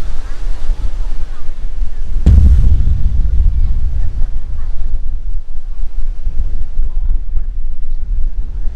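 Heavy wind rumbles and buffets the microphone continuously on the shore at Bang Saen beach, Thailand, with a sharp gust hitting hard early on and surf noise beneath.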